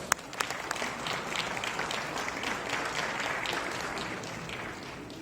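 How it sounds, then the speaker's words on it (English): Steady, dense applause fills a room at an evening launch event for a Zenbook laptop, with a few sharp individual claps standing out at the start and continuing evenly throughout. "Let's give her a round of applause."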